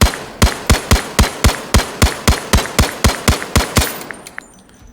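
Single shots from an M14 rifle in the video game Zero Caliber, about fourteen sharp reports in an even semi-automatic rhythm, loud and close, ending in a fading tail with no talk.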